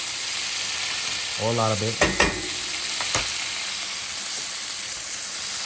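Butter sizzling and frying loudly in a hot pan with garlic and rosemary, a steady bright hiss throughout with a few clinks of a utensil; someone speaks briefly over it.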